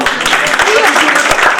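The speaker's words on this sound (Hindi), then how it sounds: "जोरदार तालियां" An audience applauds loudly to welcome guest Amit Mishra at an event in Darbhanga. The close, crackling clapping runs steadily throughout, with a voice briefly audible underneath.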